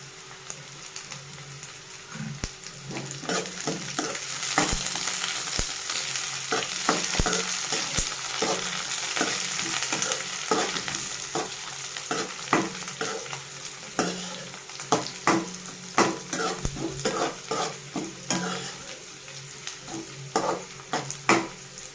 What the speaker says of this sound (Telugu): ఆనియన్ కొంచెం ఫ్రై కావాలండి. ఇందులోనే ఒక రెబ్బ కరివేపాకు యాడ్ చేసుకుంటాం.